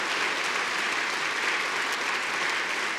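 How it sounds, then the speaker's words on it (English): A dense, even wash of audience clapping at a forum talk, thanking the event's four supporters, sustained at a constant level for the whole stretch with no speech. "Can we do a round of applause for all 4 of those supporters?"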